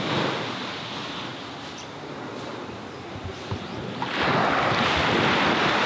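Waves at an unusually high tide surge against a harbour wall, a steady wash of surf with wind buffeting the microphone, growing louder and fuller toward the end.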